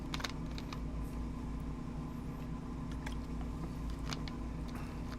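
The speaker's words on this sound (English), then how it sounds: "I'm sorry for all the typing." Sparse, faint clicks of typing on a computer keyboard, irregular taps over a steady low background hum, with no talking.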